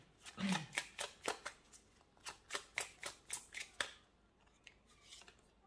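Tarot cards shuffle in a rapid run of crisp riffling snaps, about a dozen close, sharp bursts, then a softer few as cards are drawn, quiet overall.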